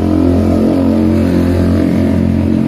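A 2003 Yamaha F1ZR motorcycle with an unclean-running exhaust revs loudly and close, its two-stroke engine holding a steady, buzzing drone with a slight dip midway.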